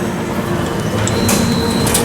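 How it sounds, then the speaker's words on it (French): A Paris metro line 14 train fills the space with a loud, steady rumble. Hissing bursts and a thin high whine sit on top, and no one speaks. "je me prépare à rentrer dans ma première ligne de métro, la ligne 14"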